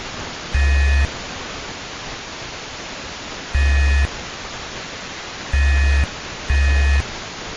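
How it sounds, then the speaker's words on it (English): Four loud electronic tones sound over steady hiss and static in an ARG puzzle recording, with gaps between them of varying length, like a few long Morse code beeps. "Morse code"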